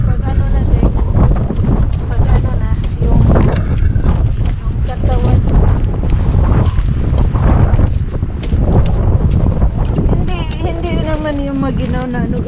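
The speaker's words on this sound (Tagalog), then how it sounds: "kasi masyadong mahangin, kaya mahangin sa labas" Strong wind outdoors batters the microphone with a constant loud roaring buffet that runs through the whole stretch, while a person talks underneath it.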